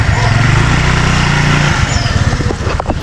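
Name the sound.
Tilo's motorcycle being ridden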